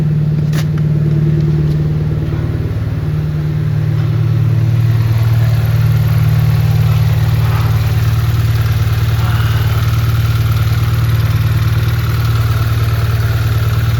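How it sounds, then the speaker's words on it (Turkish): A BMW 320i petrol engine, just started after a valve cover gasket oil leak repair, idles steadily and loudly up close with a constant low hum, no talking. "Şu an aracı çalıştırdık."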